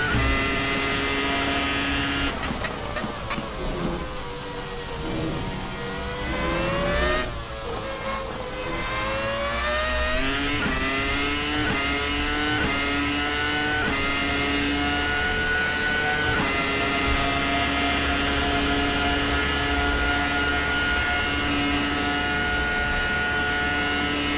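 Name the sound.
race car engine revving at Imola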